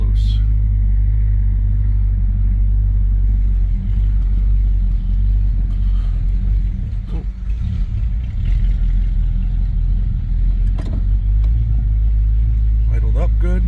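A 1971 Dodge Polara V8 idles steadily up close, a loud low rumble holding even throughout, with people talking over it.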